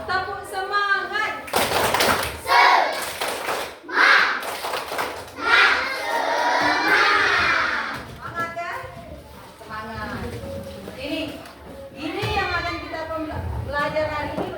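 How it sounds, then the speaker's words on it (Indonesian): Schoolchildren doing a spirited clapping cheer in an Indonesian classroom lesson, loud rhythmic bursts of claps mixed with excited children's voices, then a teacher talking. "Sebelum mulai belajar, coba tepuk semangat."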